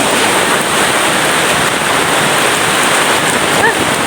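Steady rain falls outdoors, a dense, even hiss pouring down without pause at close range; no voices stand out over the downpour.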